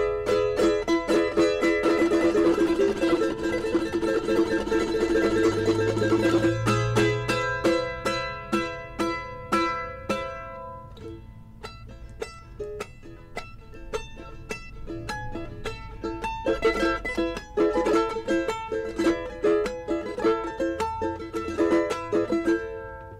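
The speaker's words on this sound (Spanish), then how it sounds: "Y ahí está esta chacarera que," Argentine folk chacarera, played on charango and piano, with bright strummed and plucked notes in a lively rhythm and rolling piano chords, clear and close with no voices.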